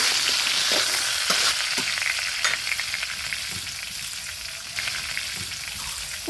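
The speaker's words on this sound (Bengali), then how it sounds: "শুধু লবণ দিয়ে আদা ভাজা করে নেবো" Ginger fries with salt in a wok, giving a loud, continuous crackling sizzle up close, broken by a few sharp pops and stirring taps.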